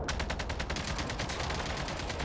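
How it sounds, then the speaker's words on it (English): Rapid gunfire aimed at a helicopter in Warzone, a loud sustained burst of evenly spaced shots close by. "We can shoot the heli."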